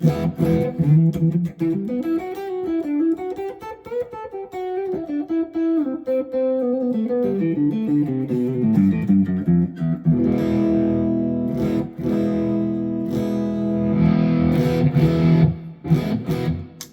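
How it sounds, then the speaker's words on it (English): An M Musi Capricorn Fusion electric guitar with its volume turned down plays a continuous, slightly muffled melodic line with sustained notes, then steady strummed chords, mellow and dull-toned rather than bright. "you hear those high-end tones go away as soon as you start turning that volume down"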